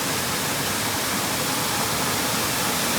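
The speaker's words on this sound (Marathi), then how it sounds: "एकदम भवानी भट्टी चालू केला" A stove burner roars at full flame, a dense, constant whooshing hiss at close range that holds steady throughout with no voices.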